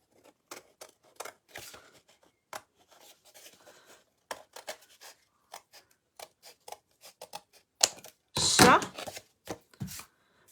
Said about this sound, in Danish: Det næste jeg skal, det er enten med en kniv eller en saks. Så klipper jeg nu langs den her kant